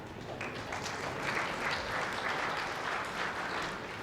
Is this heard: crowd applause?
yes